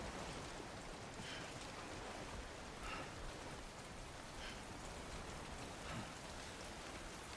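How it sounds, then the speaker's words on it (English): Steady rain pours down in a video game, a dense, even hiss of drops hitting surfaces that fills the scene continuously without voices. "Never mind, that's rain."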